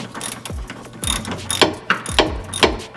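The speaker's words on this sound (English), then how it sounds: "Let's get my ratchet on," A ratchet wrench tightens an axle boot clamp on a Porsche Cayman, clicking in close repeated strokes, each a quick burst of ratcheting clicks roughly every half second.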